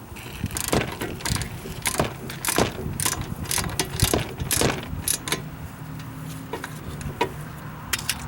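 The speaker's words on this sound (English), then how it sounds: "53 pounds on the torque wrench here." A torque wrench clicks and ratchets in short, irregular bursts while tightening brake caliper bolts on a 1987 Honda Accord DX during a rotor and pad replacement, heard close up with rattling metal in between.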